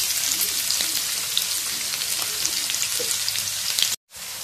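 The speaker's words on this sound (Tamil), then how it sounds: "வெங்காயம் நல்லா வதங்கி வருது" Chopped onions sautéing with spices in a pan for a Tamil egg roast masala, a steady dense sizzle throughout with faint stirring scrapes, briefly cutting out near the end.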